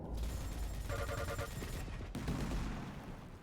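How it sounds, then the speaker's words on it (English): An automated turret in the arena shooter Quake Champions fires a rapid, continuous burst of gunfire, loud and close, with dense crackling shots through the whole stretch and no voices. "that turret is just wrecking him"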